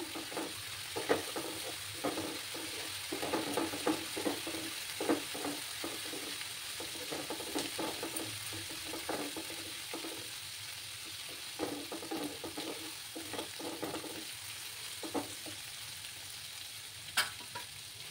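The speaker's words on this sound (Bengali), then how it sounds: "দিয়ে ভালো করে এটাকে কষিয়ে নিতে হবে।" Ginger-garlic-green chili paste fries in a pan over a lowered gas flame for an egg do-peyaja, a steady close sizzle broken by repeated scraping and stirring strokes throughout.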